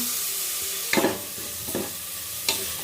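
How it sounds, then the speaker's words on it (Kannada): Green peas fry in a pan with paste, salt and chili powder, a low steady sizzle broken by three brief spatula scrapes, close and alone. "ಇವಾಗ ಬಟಾಣಿ ಫ್ರೈ ಮಾಡ್ಕೊಳ್ಳುವ"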